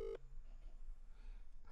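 A telephone keypad dials a work number. A short, faint pair of dialing tones is followed by a near-silent line.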